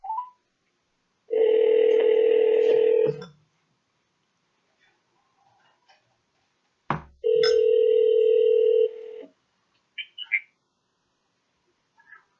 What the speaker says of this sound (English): I'm going to try and call a few of you guys back because they're just not going through.